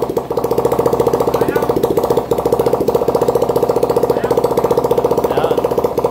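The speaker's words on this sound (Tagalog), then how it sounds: "umandar na mga kabro yung makinang dala nila bossing from Dagupan" A motorcycle engine runs loud and close after a carburetor repair, chugging at a fast, steady idle with a rough, sputtering beat while someone talks over it.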